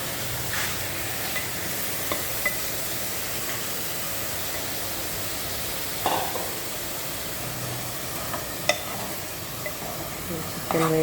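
Chicken coated in masala sizzles steadily in a pan for gravy, with a soft, even hiss and a few faint scrapes and clinks from stirring now and then.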